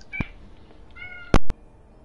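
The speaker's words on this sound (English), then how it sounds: "I heard a cat" A house cat gives a couple of short meows, followed by a sharp, loud knock or thump, in an otherwise quiet room.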